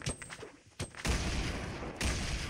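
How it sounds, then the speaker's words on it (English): Grenade explosions in the Fortnite battle royale video game, several heavy booms in quick succession, loud and close, the later blasts running together into a sustained roar. "Oh, that's a grenade! That's a lot of grenades!"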